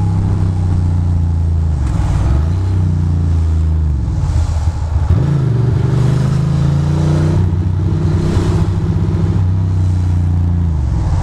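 A Ducati motorcycle rides across the Brooklyn Bridge from Manhattan, its engine droning steadily and loud throughout, with shifting revs and a few gear changes amid wind rush.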